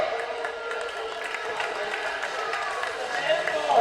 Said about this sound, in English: a big round of applause for Mount Allison and Casey and Cobra